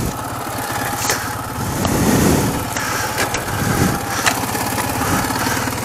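A Ural motorcycle engine runs on a winter ride, a loud, close, throbbing mid-pitched chug that swells as the revs rise and dips between clutchless gear shifts.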